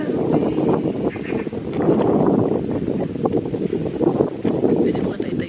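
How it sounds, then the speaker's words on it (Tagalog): Cold wind blows hard across an open farm in Pakistan, a continuous rough buffeting rush against the microphone with a voice speaking over it. "Mahangin na naman, ang lamig. Ang lamig ng hangin."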